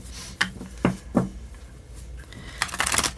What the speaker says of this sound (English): I've shuffled everything very thoroughly to clear any energies.